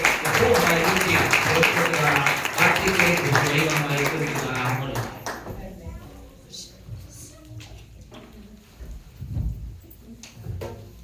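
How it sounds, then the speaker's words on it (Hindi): A church congregation claps to welcome a speaker during a Christian service, a dense loud burst of applause for about five seconds that fades into quieter scattered noise and distant sounds. "ताली बजाकर भाई का स्वागत करें"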